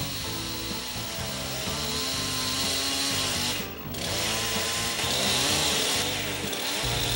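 Chainsaw cutting a saddle notch into a log for a log cabin, its engine droning steadily at close range with shifting pitch as it bites into the wood, dipping briefly once midway before resuming.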